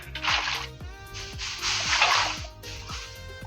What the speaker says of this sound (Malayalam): വെള്ളം വെച്ച്